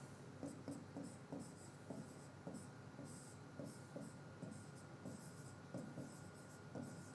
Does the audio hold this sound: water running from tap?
no